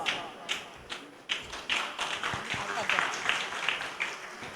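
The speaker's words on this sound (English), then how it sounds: "Please welcome him with a warm round of applause." Audience applause at a corporate awards ceremony, crowd clapping in a dense, steady patter with a few sharper claps standing out, sustained and fairly close throughout.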